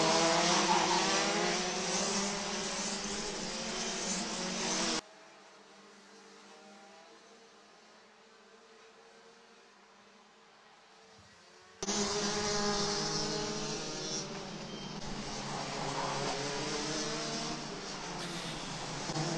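Rotax DD2 racing karts roar past loudly on the Wittgenborn kart track during an ACV Kart Nationals race, with a quieter, distant stretch between two dense, sustained engine passes.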